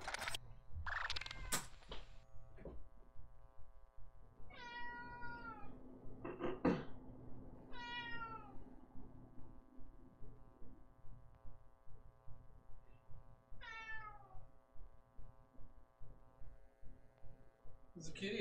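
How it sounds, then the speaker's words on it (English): Cat meows in a video game setting, several rising, drawn-out cries spaced apart over a low steady hum and background game sounds, fairly clear and distinct. "There's a kitty outside."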